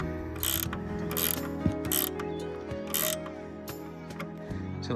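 A ratcheting 13mm spanner tightening the nut on a Starlink tile roof mount, giving bursts of rapid clicking ratchet strokes about once a second, close and fairly quiet over faint background hum.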